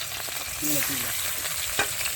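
Oil sizzles and crackles steadily in a pan as fish and chilies fry, a continuous close frying hiss with a brief stirring scrape partway through.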